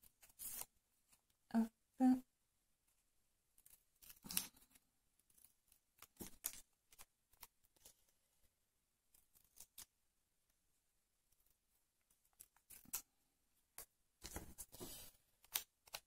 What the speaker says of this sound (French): le ciseau pince, c'est assez intéressant parce que ça coupe au plus près